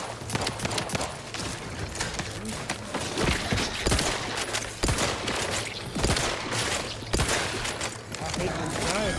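Repeated gunshots from a slow-firing gun in the video game Outer Worlds 2 land at spaced intervals through a busy combat scene, mixed with game effects and voices talking.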